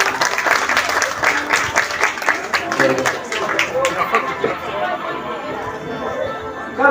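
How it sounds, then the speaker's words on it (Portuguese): Church event audience applauds with loud, rapid clapping that tapers into chatter and murmuring voices toward the end. "Palmas para ela, gente."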